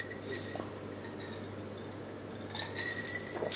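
Glasses clinking in a toast over gin and tonic, with a few light, bright clinks early and a brief cluster of sharper glass chinks near the end over a low steady hum.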